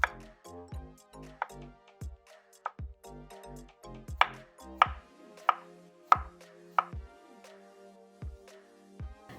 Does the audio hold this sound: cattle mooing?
no